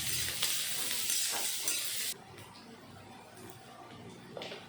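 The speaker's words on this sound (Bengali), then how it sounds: "এখন নেড়েচেড়ে গাজর আমি ভেজে নেব" Grated carrots fry in ghee in a hot wok while being stirred, a bright hissing sizzle for about two seconds that drops to a quieter crackle with occasional scrapes, close by.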